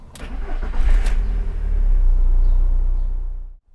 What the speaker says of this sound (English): start the engine, have a listen